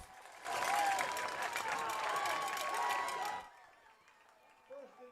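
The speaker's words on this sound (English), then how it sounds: "the crowd has come alive" A high school football crowd at a night game erupts in cheers and applause after a fourth-quarter turnover, a loud sustained roar for about three seconds that then drops away, leaving faint background chatter.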